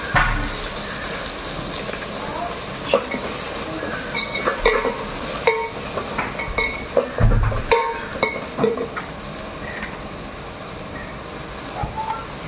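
Biryani masala spices sautéing and sizzling in a pan for a sprouted-bean biryani, with steady frying hiss and repeated scraping stirs and clinks of a spoon throughout, close and fairly loud, no talking.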